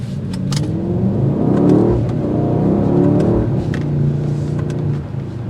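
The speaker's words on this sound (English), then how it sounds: "you still get a nice exhaust note" A 2022 Mercedes-AMG GLE 63 S SUV's loud, throaty exhaust roars as it accelerates, rising and falling in pitch with a rumbling, revving tone, heard from inside.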